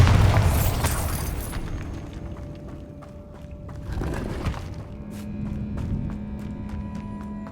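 A Bombarda spell explosion in the video game Hogwarts Legacy: a loud, deep boom at the start that fades into a rumbling tail, then a second, softer blast with low rumble a few seconds later.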